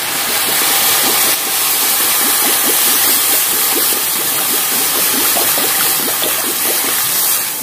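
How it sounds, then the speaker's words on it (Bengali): Water pours steadily into a cooking pot of browned curry before fish is added, a loud continuous gushing rush with faint rhythmic glugging, with no voices. "কষে গেছে, জল দিচ্ছি"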